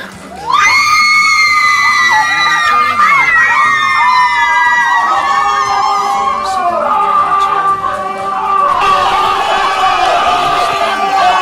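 Crowd of men screaming and shrieking loudly together at a presentation event, a dense sustained wall of high-pitched yelling that swells and wavers without a break.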